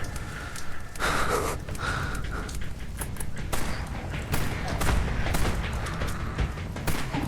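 Rapid gunfire from a weapon in the zombie survival game Dead Frontier 3D, a dense run of sharp repeated blasts over a steady loud game background, with brief gasps mixed in.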